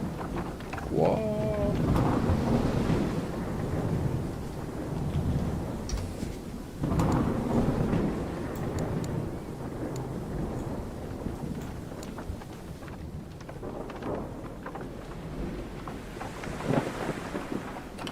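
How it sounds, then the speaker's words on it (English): A storm rises at sea around a historic sailing ship in the game Sail The Seas, with low rolling thunder, steady wind and rain rumbling throughout at a constant moderate level. "right now there is a storm rising"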